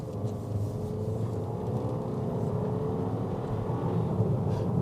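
A 2019 Volkswagen Beetle turbo accelerates with a steady, loud engine rumble and whir heard from inside the car, holding a continuous drone throughout.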